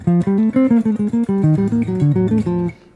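A jazz rhythm changes bebop line of quick, bouncy notes played on a keyboard-like instrument over a steady bass, swinging along for a few seconds before stopping.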